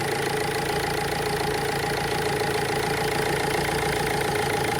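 Car engine idling steadily while brake cleaner is sprayed around the inlet to check for a leak; a continuous, even mechanical hum with no change in revs, heard close up and alone.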